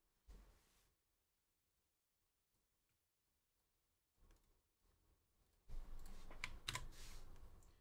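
Typing on a computer keyboard, faint clicks in short bursts separated by near silence, building to a denser, louder run of keystrokes at the end.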